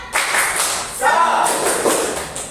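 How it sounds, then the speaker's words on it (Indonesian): Classroom of fifth-grade students doing a rhythmic spirit clap before a math lesson, a few bursts of group clapping with voices mixed in, fairly close and moderately loud. "Ayo kita tepuk semangat"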